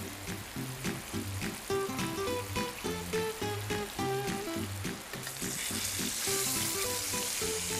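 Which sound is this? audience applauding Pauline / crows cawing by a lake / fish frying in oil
fish frying in oil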